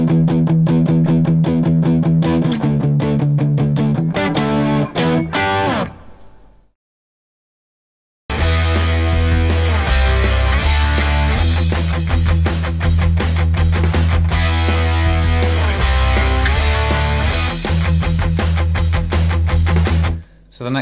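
Distorted electric guitar plays a riff at full speed, fast palm-muted chugging with power chords and slides, loud and continuous apart from a brief silent gap around the middle.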